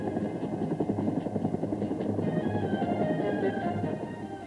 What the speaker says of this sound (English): the Air Force has Huey helicopter air ambulances available for civilian rescue work